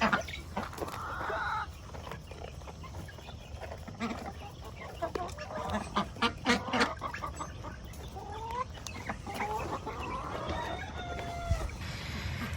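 Chickens cluck and squawk in a busy, fairly distant flock, with scattered calls over a constant outdoor rumble.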